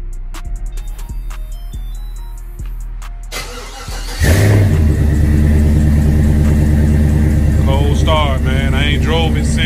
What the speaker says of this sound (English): Let's do this cold start on this thing.